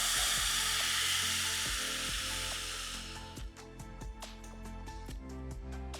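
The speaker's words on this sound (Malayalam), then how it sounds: "പുളി ഒഴിച്ചിട്ട് ഞാൻ ഒന്ന് ഫ്ലെയിം കൂട്ടി വെക്കുകയാണ് കേട്ടോ" Tamarind water for puliyinchi hits a hot pan with a loud, steady hiss. After about three seconds it settles into a softer bubbling simmer with scattered ticks and pops. No one speaks.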